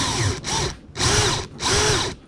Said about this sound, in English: There is a pattern to what I'm doing with this drill with these screws.